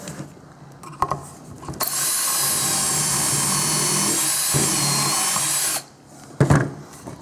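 A power drill drives screws into pocket holes cut with a Kreg pocket jig, whining loudly and steadily for about four seconds, framed by close handling clatter and clicks before and after.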